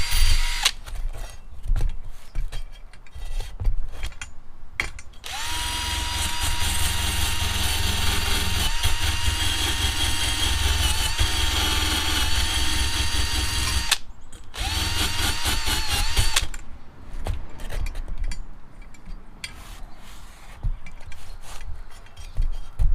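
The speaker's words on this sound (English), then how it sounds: "I'll kind of show you sanding that a little bit" A power drill spins a wire brush against a Coleman 424 camp stove part, whining loudly in long continuous bursts broken by short pauses, with scraping grit under the motor tone.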